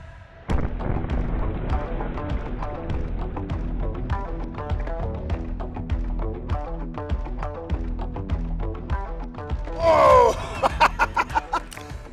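A hand cannon goes off and blows a watermelon off a table, the blast buried in a dense, rumbling string of booms and crackles that runs throughout, with a sharp burst of higher noise near the end.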